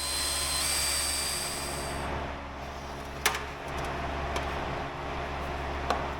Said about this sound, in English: Had to turn the exhaust fan on.